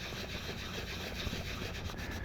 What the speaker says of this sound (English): So I'm just gonna rub it down really well.